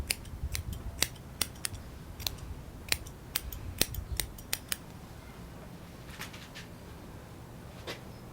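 Sharp scissor snips trimming a dog's ear hair during Bouvier grooming, a quick cluster of close crisp clicks in the first five seconds, then a few softer, sparser snips over a faint background.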